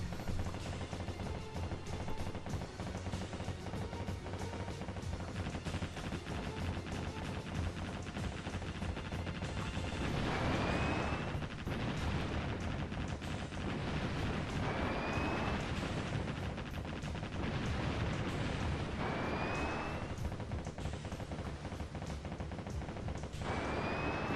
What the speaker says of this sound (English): battleship main cannons